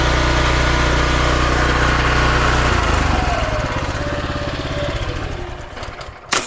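An industrial portable pressure cleaner with a low RPM pump and a hot-dip galvanised frame runs nearby, a loud steady engine drone that shifts and slowly eases off in pitch and level.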